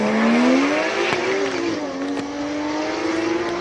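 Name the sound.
Porsche GTS race car at Cape Town hill climb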